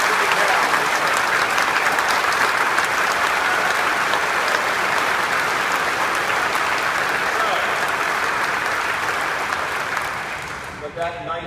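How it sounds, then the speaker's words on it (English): Polite applause from an audience at a town hall meeting, steady clapping that holds for about ten seconds before tapering off at the end. "With that nice, polite applause"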